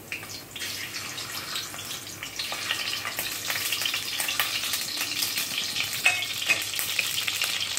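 Eggs frying in oil in a pan while an egg, shrimp and onion curry is cooked; a steady, close crackling sizzle that swells slightly louder after the first couple of seconds and continues without speech.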